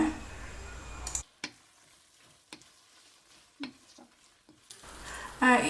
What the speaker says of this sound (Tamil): கடைசியாக இதில் கொஞ்சம் கருவேப்பிலையும் கொத்தமல்லி தழைகளையும் போடுங்க ஒரு ரெண்டு நிமிஷம் சிம்மில் வதக்குங்க